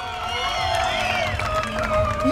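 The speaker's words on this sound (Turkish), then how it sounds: "Kuvvetli bir alkış istiyorum. Kuvvetli, ıslık, çığlık ne varsa gönderin bu tarafa." Concert crowd at a live Turkish music performance cheering and clapping, a steady roar of applause with whistles, while a voice speaks over it.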